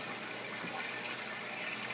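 Homemade stir plate spinning 400 ml of water into a fast vortex, giving a steady, close, continuous churning swish of water with no talking over it.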